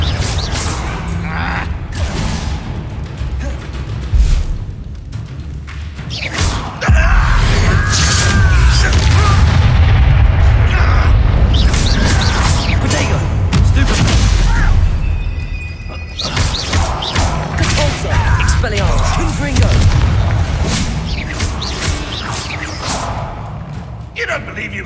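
Confringo explosive spell blasts in Hogwarts Legacy, with heavy booming impacts and crashing debris over a dense battle soundscape, and voices shouting throughout.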